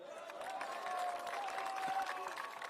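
A crowd at an outdoor political rally in Garissa claps steadily, a fairly distant, even wash of applause lasting a few seconds.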